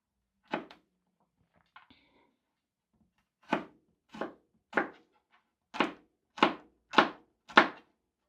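Garlic chopped on a cutting board: eight sharp, close knife thunks, two quick ones at first, then a steady run of six, with a faint clatter between them.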